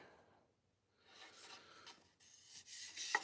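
Fine 120-grit sandpaper rasps across a wooden cutting board in soft, quiet strokes, close by, with a brief pause and a small knock near the end.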